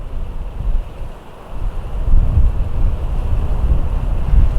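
Gusty outdoor wind buffets the microphone in rumbling, uneven surges that swell and ease, loud and close, with no voices.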